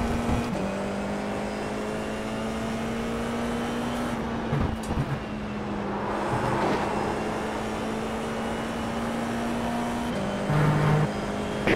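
A Formula 4 race car engine in a racing video game drones loudly and steadily at high revs, with brief pitch dips at gear shifts and a continuous whine of speed.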